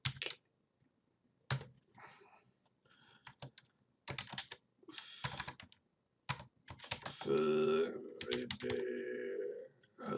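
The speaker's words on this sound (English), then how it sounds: "I have to go down here so I can see what I'm typing" A computer keyboard is typed on in short bursts of close clicking keystrokes, broken up by someone talking in between.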